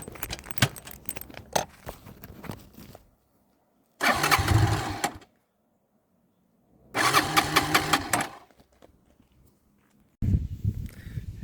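A car engine being cranked repeatedly in Yunnan, China: two loud bursts of starter grinding, each about a second long and separated by silence, following a stretch of jangling rattles and clicks.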